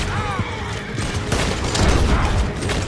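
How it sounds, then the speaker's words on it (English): Gunfire in a Red Dead Redemption 2 shootout, a dense volley of loud overlapping shots and booms mixed with shouting voices and game action noise throughout. "Morgan, shoot the devil out of those bastards! More of the bastards!"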